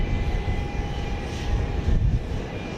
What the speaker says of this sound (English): another Southwest plane getting towed in to an overnight parking spot here